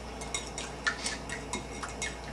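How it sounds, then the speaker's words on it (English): Eggs being whisked and stirred in a bowl at home by children making cheesy eggs, a run of quick light clinks and ticks of utensil against the bowl, faint and irregular, with no talk. "Whisk them up good so they get nice and."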